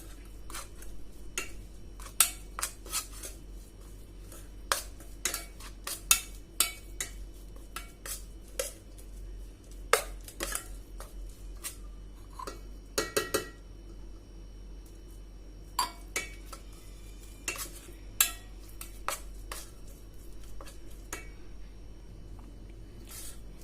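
A spoon works spice paste and water together in a bowl for Kerala-style karimeen fish fry, giving scattered light clinks and scrapes against the dish, irregular and fairly close, with no talking.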